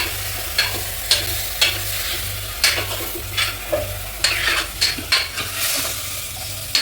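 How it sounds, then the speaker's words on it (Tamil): A spoon stirs mutton gravy in a sizzling pan, with repeated rhythmic scraping strokes, each a bright swish over a constant low cooking hiss, close and fairly loud. "நல்லா மிக்ஸ் பண்ணி விட்டுக்கலாம்."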